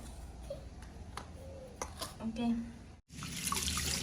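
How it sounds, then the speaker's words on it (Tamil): Rice washed with hot tap water in a home kitchen makes faint, continuous running and splashing water with small clinks, a voice present in the background and a brief cut before the water resumes. "அரிசியை கழுவி போடும் அரிசி கழுவுற தண்ணியை பார்த்தீங்கன்னாலே சுடு தண்ணி தான்"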